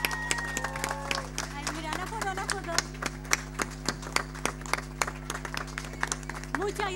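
Audience applause at a live album-launch concert, scattered distinct claps over a constant low hum, with people talking and calling out over it.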